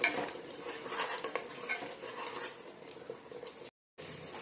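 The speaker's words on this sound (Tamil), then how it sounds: "சேர்த்துட்டு நல்லா வதக்கிக்கலாம்." Green chillies and turmeric are sautéed in a pan for tomato rice, with a close, continuous sizzle and spatula scraping, broken by a brief silent gap near the end.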